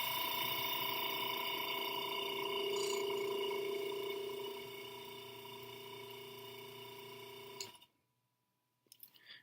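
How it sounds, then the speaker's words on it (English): An air compressor drives a fly-tying dubbing blender, a steady mechanical whir and hum with a fine rattle that eases down partway, then cuts off abruptly near the end, followed by a short clatter. "And then you're just going to turn on your air compressor"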